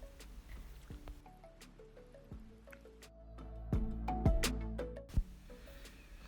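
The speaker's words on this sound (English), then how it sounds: "the other half goes into a separate bowl where I add some water to dissolve the dough" Corn dough for Fante-style banku is squished and dissolved in water in a bowl, giving soft wet squelches, drips and sloshes, sporadic and close, with a louder splashy burst near the end and no talk.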